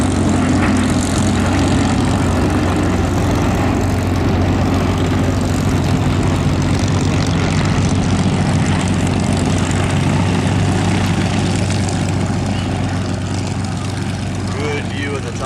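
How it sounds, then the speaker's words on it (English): A World War II propeller airplane drones loudly overhead as it passes at an air museum wartime weekend, its steady engine roar filling the scene while someone talks over it. "Good view of the top of the airplane as he's coming on by."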